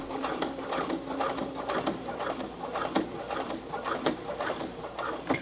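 A Brother PC 420 sewing machine hems heavy Levi's denim jeans with a fast, rhythmic mechanical patter in uneven runs, fairly quiet and close.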